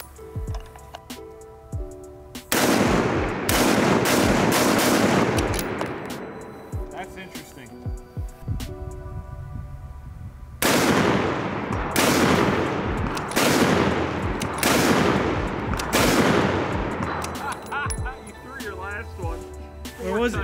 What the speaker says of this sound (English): I'm back on the gun after Ben kind of shot the lights out,